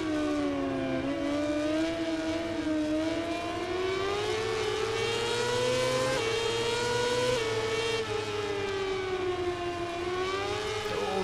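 Racing motorcycle engine in the video game MotoGP 18, Moto2 class: a continuous loud high-pitched whine rising and falling steadily with throttle and gear changes, alone with no talk.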